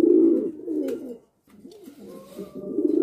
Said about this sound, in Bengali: এখানে দেখতে পাচ্ছেন এক জোড়া সবজি রেসার কবুতর